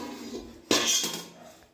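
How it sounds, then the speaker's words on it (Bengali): After a cake is baked in it, a metal lid is lifted off a kadai with one sharp clank followed by a brief rattle, close by and fading out, with no talking. "এবার কড়াইয়ের ঢাকনাটা খুলে দিচ্ছি"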